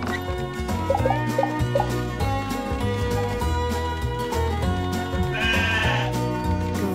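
Sheep bleat repeatedly over a steady, busy musical backing in the Paw Patrol Academy game, with game-style tones layered throughout.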